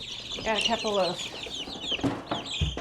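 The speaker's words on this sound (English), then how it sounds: "this is a batch of broiler chicks. They are Rhode Island Reds." Rhode Island Red broiler chicks, about fifteen of them, cheep and cluck in short chattering bursts at close range while a voice speaks briefly.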